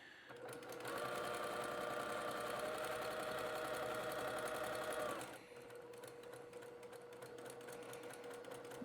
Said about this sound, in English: It actually gives me a good little starting spot as I'm heading over to the sewing machine